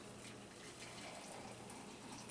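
Liquid pours steadily into a container in a continuous close gushing trickle, faint overall and without speech.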